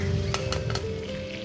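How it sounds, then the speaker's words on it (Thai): Whole pomfret fish frying in salt and oil in a flat, untilted pan, a close, dense sizzle with a few sharp spatters over a low steady hum, no voices. "เมนูต่อมานะคะก็เป็น ปลาปลาจระเม็ดทอดเกลือ อันนี้อย่าเอียงกระทะทอดนะคะ"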